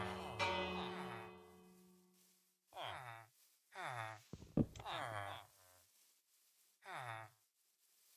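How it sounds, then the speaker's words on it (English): A bell rung in Minecraft, with a long ringing chime that decays over the first couple of seconds, then short voice-like game sounds repeating at intervals. "Hit that bell."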